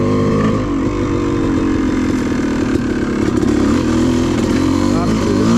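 A Yamaha YZ250 two-stroke dirt bike ridden along a wooded trail at the Wambaw OHV area, its engine droning loud and continuous right up close with wind rush and rattling over the rough ground.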